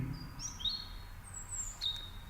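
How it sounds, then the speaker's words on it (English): Birds give thin, high whistling chirps and tweets in a few separate sliding notes over a quiet, steady outdoor background. "birds chirping."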